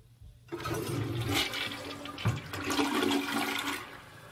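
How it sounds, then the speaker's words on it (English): A 2015 American Standard Cadet Pro toilet, rated 1.6/1.28 gallons per flush, flushes close by: a sudden loud rush of water, swirling and gurgling for about three seconds before tapering off. "let's flush this toilet"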